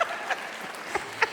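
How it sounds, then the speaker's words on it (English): An audience at a convention panel gives a light round of applause, a few scattered, moderately distant claps against a quiet room. "Give her a round of applause, everybody."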